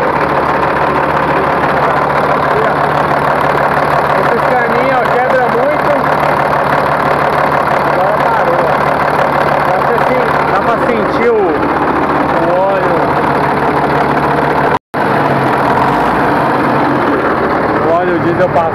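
A Mercedes-Benz 1935 truck's 355 diesel engine idles nearby, a steady knocking rumble that runs nearly unbroken for the whole span, with a slight leak at the first cylinder and someone talking over it.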